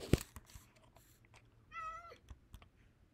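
A Minecraft cat gives a short, quiet meow, heard once amid faint clicks and small game noises, with no talking.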